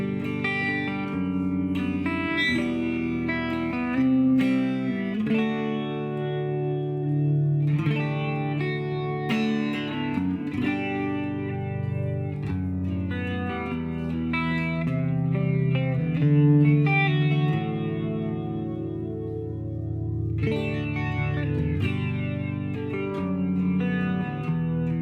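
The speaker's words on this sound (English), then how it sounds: "Next up we have flanger and reverb." An electric guitar played through a Fender Mustang Micro headphone amp with flanger and reverb effects rings out continuously, with strummed chords and sweeping, washy tails, loud and alone.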